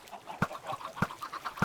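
Chickens cluck in the video game Minecraft, three short, sharp calls spaced evenly about half a second apart, close and clear over a faint background murmur.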